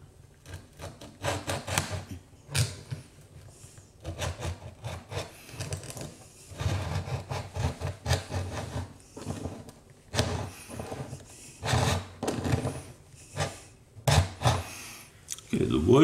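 Rough, scraped wood is worked with Sedgwick sanding tools in repeated close, gritty rasping strokes that come in uneven bursts with brief pauses. A voice is heard at times between the strokes.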